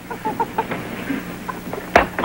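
A hen at a county fair clucks in a run of short, close, repeated notes, ending with a louder squawk.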